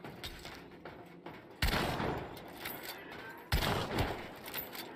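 Gunfire in the video game Hunt: Showdown: two loud, sharp shots a couple of seconds apart, each followed by a rolling echo, with fainter distant shooting and mechanical noise in the background.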